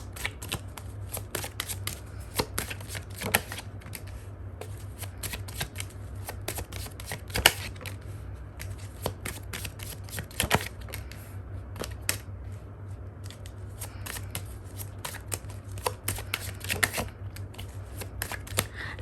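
Tarot cards are shuffled continuously, producing a steady papery riffle and flutter. Sharp card snaps break through at irregular moments, all close and fairly quiet with no voices.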